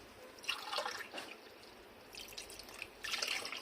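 Warm water poured from a cup into baghrir semolina pancake batter, heard as a few short, splashy pours with quiet gaps between them, close and soft.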